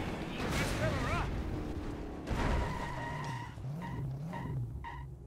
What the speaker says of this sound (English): Did you just hear the car screech like that?